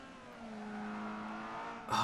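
McLaren M23 race car engine in the Forza 5 video game, a sustained high-pitched racing engine drone holding steady with rising harmonics, ending in a brief harsh burst of noise, with no speech.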